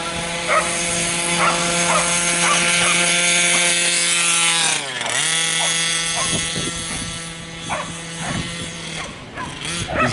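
A Losi Five B with an OBR 32cc two-stroke engine idles and runs at quarter throttle during break-in, a steady buzzing drone with strong harmonics that dips briefly in pitch midway, with small knocks and clatters around it.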